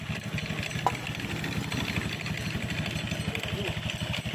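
Honda Beat scooter with a worn-out CVT belt running close by, a rapid rhythmic clatter over a steady engine throb throughout, with a brief knock partway through.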